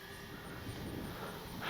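A radio-controlled FlightLine B-25 twin-engine model bomber flies around in windy, overcast conditions, giving a steady, distant electric motor drone mixed with wind rush on the microphone.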